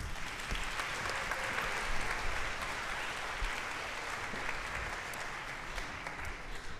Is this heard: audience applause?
yes